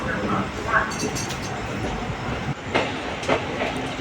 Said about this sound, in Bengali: রামপুরহাটে ঢুকে গেছে প্ল্যাটফর্মে ঢুকছে ট্রেন